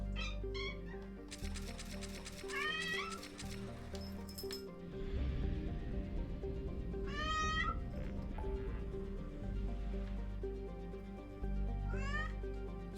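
A cat in the game Mass Effect 2 meows repeatedly, several drawn-out rising and falling cries spaced a few seconds apart over a steady low musical and ambient hum.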